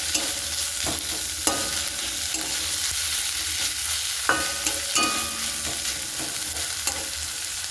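Small chopped tomatoes fry in a pan with pointed gourd and goat fat, a steady close sizzle with scraping stirs and occasional clinks of a utensil against the pan, and no talk.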